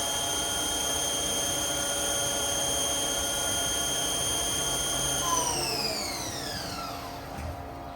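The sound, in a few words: HAAS TL-2 CNC toolroom lathe running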